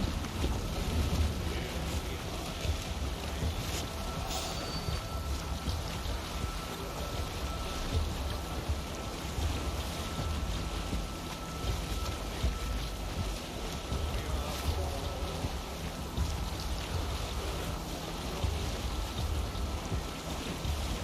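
A sailing ship under way in the video game Assassin's Creed Valhalla, with steady rushing wind and water wash that runs continuously at a moderate, even level throughout, with no distinct events standing out.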